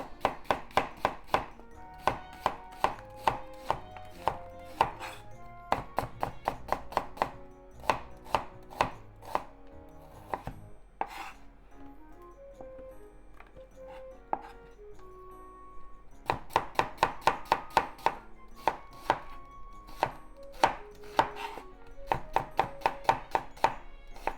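Steady, rapid knife chops slicing beef on a cutting board, sharp regular taps continuing for a long stretch with a faint tonal ring behind them.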